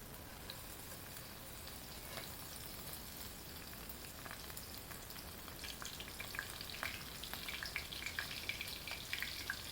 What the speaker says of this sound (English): Into the fryer, the first batch goes.